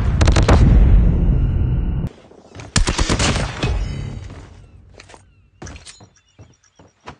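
An EM-2 assault rifle fires in Call of Duty: Mobile, sounding as loud, close bursts of rapid gunfire with sharp metallic clanks and mechanical handling noises in between.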